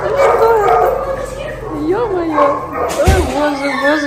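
Dogs at an animal shelter yipping, whimpering and howling in wavering cries, loud and close, with people talking over them.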